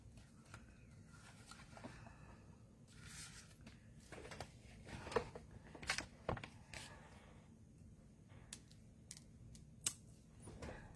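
A deckled rectangle of designer series paper being cut for mini Christmas trees: quiet, scattered snips and light clicks spread through a soft room hush, with a few sharper taps near the middle.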